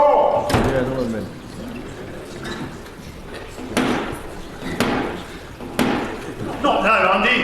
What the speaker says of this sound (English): Black Rod had to go and knock on the door of the House of Commons